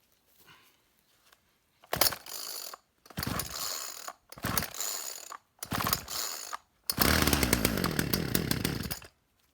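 Chainsaw being pull-started with the choke out, five sharp rasping pulls of the starter cord, each a loud burst of ratcheting whir, the last one longer as the engine briefly catches, heard close with no talk.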